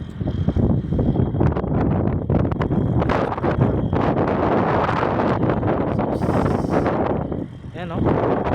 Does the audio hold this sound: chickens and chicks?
no